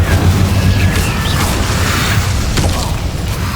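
A fire spell, Incendio, cast in the video game Hogwarts Legacy: a loud, sustained whooshing burst of flame with deep booming rumble underneath, steady and close throughout.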